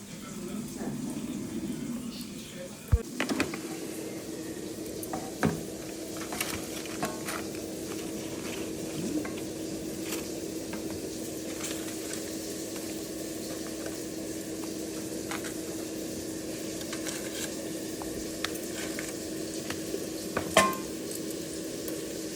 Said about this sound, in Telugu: ఇప్పుడు దీనిలోకి పెట్టేసుకొని ఫ్రై చేసుకోవడమే